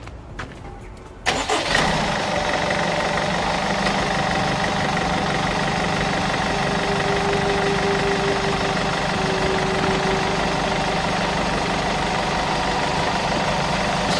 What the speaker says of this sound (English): So now we're going to start the engine.